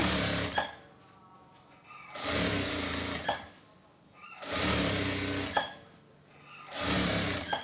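Sewing machine stitching the front placket of a shirt, running in four long bursts of steady whirring with brief stops between them, close and loud, no talking.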